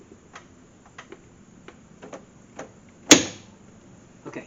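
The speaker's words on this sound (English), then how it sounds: "hear that snap?" BMW Z3 window regulator clip snapping into place: one sharp, close click stands out against faint, irregular light ticking from handling parts.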